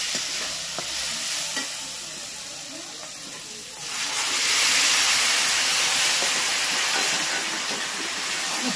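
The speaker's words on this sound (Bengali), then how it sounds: "এবার এটাকে ভালো করে একটু নেড়ে চেড়ে সাথে সাথে আমি কচু শাকটা দিয়ে দেবো।" Spices, including a little cumin powder, stirred in hot oil in a pan just before taro greens go in, giving a steady sizzle and hiss that swells louder partway through, with scraping stir strokes.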